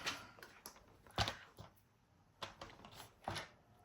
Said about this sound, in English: Okay, so paper trimmer.